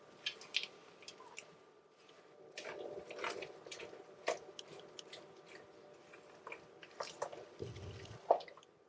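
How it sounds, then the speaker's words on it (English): A spoon stirs dry ingredients into wet banana oat chocolate chip muffin batter in a bowl, making soft, sticky squelching and gloopy slaps with occasional light clinks against the bowl, close and quiet. "I'm just going to be stirring until the mixture is well mixed"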